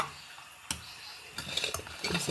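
Cucumber munchi ingredients with salt, jaggery and turmeric being stirred in a cooking pot, a few scraping, clattering stirs with a sharp clink near the start, close and fairly quiet.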